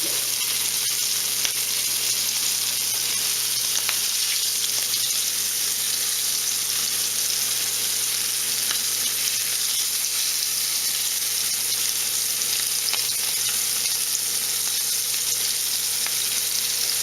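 Fish fillets in Shore Lunch Cajun style breading fry in hot oil, a loud, dense, continuous sizzle held steady throughout, with a faint high whine behind it and no talk.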